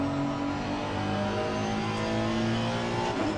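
Honda NSX EVO GT3 race car in Assetto Corsa Competizione at Barcelona, its engine droning steadily at high revs with shifting harmonic tones, loud and continuous throughout.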